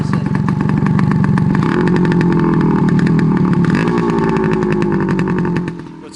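A 1978 Suzuki TS185C two-stroke motorcycle idles and revs, its exhaust crackling and buzzing loudly up close, the pitch rising and falling with the throttle before easing off at the end.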